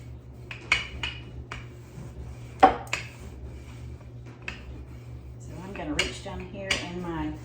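Pans and dishes clatter in a home kitchen while apple cream cheese rolls are being made, with scattered sharp metallic clinks and knocks in an irregular rhythm, close by and moderately loud over a low steady hum.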